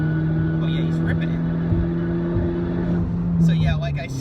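A tuned, modified Volkswagen MKVI GTI driven hard nearby, its engine droning steadily and then climbing in pitch as it pulls away, with a voice talking over the run.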